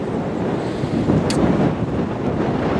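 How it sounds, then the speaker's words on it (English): Strong wind gusting through a creek bed on Wisconsin public hunting land, a loud, constant roaring rush that buffets the microphone and swells slightly midway, with no talking. "It's quite windy."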